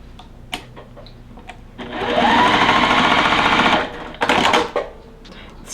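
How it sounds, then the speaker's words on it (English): Sewing machine running a steady two-second burst of fast mechanical chatter as quilt blocks are joined at the center, close and loud, with softer handling clicks before and after. "Now we are going to sew the center one, the C, to these two blocks."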